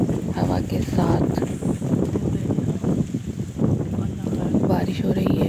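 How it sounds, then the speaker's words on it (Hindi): Strong storm wind with light rain starting roars and buffets the microphone in gusty, continuous rushes, loud and close throughout. "बारिश हो रही है, हल्की हल्की से अभी स्टार्ट हुई है और बहुत तेज़ हवा चल रही है।"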